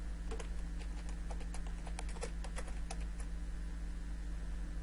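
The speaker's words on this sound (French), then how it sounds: "je tape le nom du produit" Clicky computer keystrokes tap out a product name in irregular bursts, fairly faint against a steady electrical hum and background noise.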